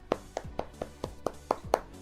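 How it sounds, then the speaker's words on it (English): Eight sharp hand claps spaced irregularly over two seconds, moderately close and fairly quiet, with no talking. "Everybody clap."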